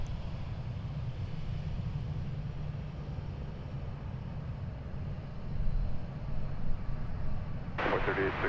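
Cargolux Boeing 747-400 cargo jet at DFW airport, a steady broadband engine roar held for several seconds, swelling slightly toward the end, heard at a distance outdoors.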